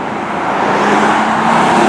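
A Porsche Carrera GT engine drones steadily while the car is driving, a continuous road-going hum with faint tire and road noise and no talking.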